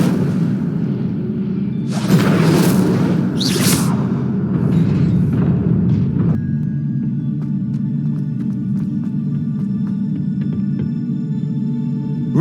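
The Incendio fire spell in Hogwarts Legacy erupts in a burst of roaring, whooshing flame, two or three rushing blasts over a couple of seconds before fading into quieter game ambience.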